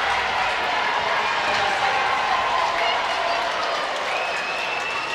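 Ice hockey arena crowd cheering and applauding after a Coventry Blaze goal in a Challenge Cup semi-final against Sheffield Steelers, a steady broad roar of clapping and shouts sustained throughout.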